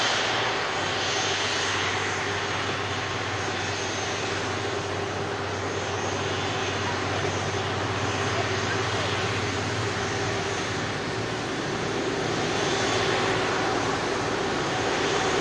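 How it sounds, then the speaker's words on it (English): An air tanker aircraft rolls past at Manchester Airport, its jet engines giving a steady, fairly close drone that holds evenly for the whole stretch with no voices over it. "Air tanker rolls past us."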